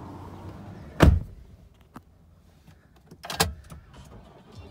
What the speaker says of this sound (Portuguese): Abertura da tampa de combustível.